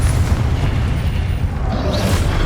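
A Confringo explosive spell blast from the game Hogwarts Legacy: a sustained, loud, low rumbling boom that fills the whole moment without any break or voice.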